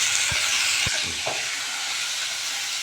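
Udupi sambar ingredients sauté in hot oil over high heat, giving a constant, dense sizzling hiss with a couple of brief spoon taps early on.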